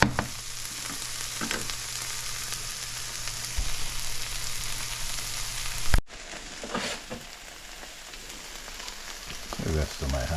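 Corned beef fries in a pan with a steady, close crackling sizzle. Partway through there is a sharp knock and the sizzle drops quieter, then a few faint stirring scrapes follow.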